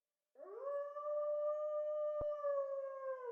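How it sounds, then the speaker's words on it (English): A long, steady howl in the video game Tsukihime: A Piece of Blue Glass Moon, rising in at the start and then holding level as a clear, sustained tone with no talk. "The howl is headache-inducing."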